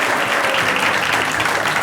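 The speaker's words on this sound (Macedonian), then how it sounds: "Аплауз." An audience at a live stage talk show applauds with a dense, continuous burst of clapping that holds at an even loudness throughout.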